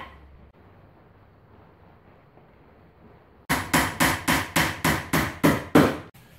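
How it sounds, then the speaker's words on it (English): A hammer drives nails into pallet boards for a coin-top table, nine sharp, loud, evenly spaced blows in quick succession after a few seconds of quiet room sound. "the next step is to glue it and start nailing it down"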